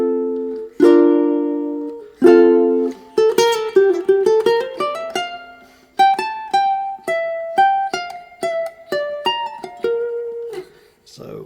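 Fingerstyle ukulele picks a riff up close, a run of plucked notes and chords climbing and falling in a steady, moderately loud melodic line with no talking over it.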